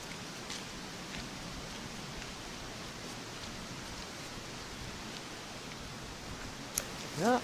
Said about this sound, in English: Just had an intense bit of rain for half an hour or so